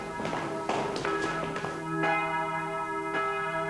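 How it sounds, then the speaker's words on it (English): Church bells ring on a Sunday morning, several struck tones sounding in an uneven sequence and leaving long ringing hum between strikes, fairly distant and clear with no talk. "Sunday morning bells summon a family to church."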